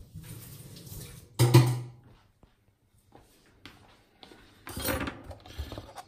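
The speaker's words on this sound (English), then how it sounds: "We're gonna wash our knife." Kitchen knife rinsed under running tap water in a sink, with a short gush, a pause, then a second burst of splashing, near and moderately loud.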